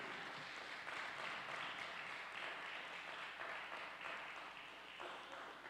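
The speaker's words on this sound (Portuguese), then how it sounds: "Uma salva de palmas a Cristo Jesus." Steady applause from a congregation at a church service, a continuous wash of clapping that holds at an even level for several seconds.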